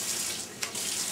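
Water runs from a kitchen tap in a steady, soft hiss with a brief louder splash partway through, and no voices.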